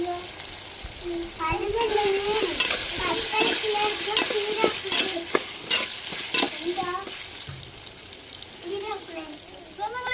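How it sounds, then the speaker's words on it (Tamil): Chopped potato and brinjal sautéing in oil for a dried stingray curry, continuous close sizzle with repeated stirring clatter, and voices talking faintly in the background. "நம்ம வெட்டி வச்ச உருளைக்கிழங்கு கத்திரிக்காய் எண்ணெயிலே வதக்கி எடுத்துக்கிறோங்க"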